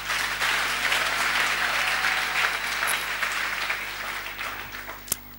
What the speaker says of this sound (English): Let's give them a mighty hand clap